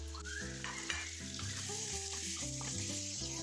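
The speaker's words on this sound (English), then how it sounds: "Again we will be stirring." Turmeric, salt and ginger garlic powder sizzle loudly in a pan for chicken karahi while a utensil stirs steadily, continuous frying crackle close up with scraping strokes and no talking.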